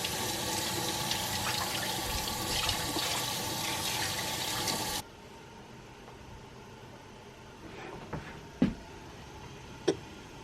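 Salmon rinsed under a running kitchen tap for shrimp and salmon alfredo, a steady close rush of water for about five seconds that then drops away to quiet room sound with a couple of small clunks.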